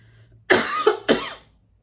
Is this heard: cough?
yes